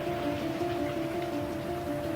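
Rain falls steadily in Wuhan at night as a continuous, even hiss, with a low steady hum running underneath and no voices.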